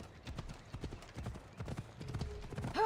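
Rapid hoofbeats of a deer mount galloping in the video game Assassin's Creed Odyssey, a steady drumming clip-clop with a faint tone near the end.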